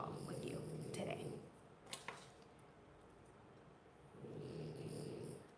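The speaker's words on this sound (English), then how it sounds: "She is snoring so loudly." Dog snoring indoors, faint rhythmic rasping breaths in two longer stretches separated by a quieter pause with a couple of small clicks, all soft and close.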